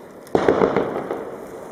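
Fireworks go off near a sky lantern launch, a sharp burst followed by rapid crackling pops and bangs over a second or so, fairly close and loud, with no talking over them.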